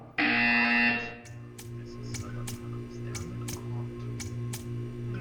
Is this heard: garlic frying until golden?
no